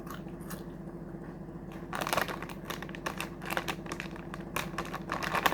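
Thin, wavy Testo WAVE snack chips are bitten and chewed up close, starting with a quiet lull and then a run of crisp, irregular crunches that grow busier toward the end, with no talking.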